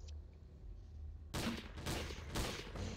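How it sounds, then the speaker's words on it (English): Gunfire in Garry's Mod aimed at a bucket: after a quiet stretch, a sudden burst of rapid shots erupts, followed by several more sharp volleys, close and loud with no talking. "I was shooting at the bucket"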